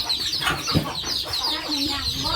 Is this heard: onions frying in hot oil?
no